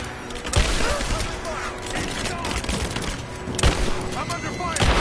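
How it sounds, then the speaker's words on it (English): Video game gunfire crackles in rapid bursts and scattered shots near a cathedral, with a few heavier thumps standing out, while voices talk over the shooting. "I'm under fire!"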